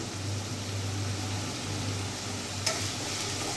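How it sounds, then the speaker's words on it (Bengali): Onions frying in a pan for a mushroom masala, a quiet, even hiss of sizzling over a low background hum, with one brief sharp click near the end. "আমার পেঁয়াজের কাঁচা গন্ধ যতক্ষণ না যাচ্ছে ততক্ষণ আমি পেঁয়াজটা ভেজে যাব"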